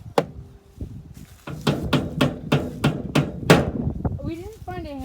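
Metal shovel smashing a microwave, a series of hard, sharp impacts in a quick irregular burst, mixed with voices talking and exclaiming.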